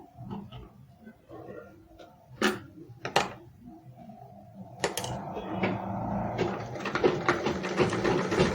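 A sewing machine stitches fabric for a Yoruba iro and buba outfit; after scattered handling clicks and knocks, the motor starts around midway into a steady, close mechanical whir with rapid needle chatter.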